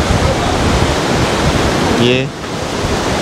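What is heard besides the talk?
roaring water of the Argun river with strong wind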